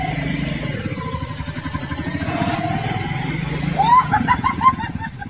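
Homemade tractor fitted with a motorbike engine, a rapid chugging putter that builds in intensity toward the end, with some clattering and a few faint tonal squeals over it.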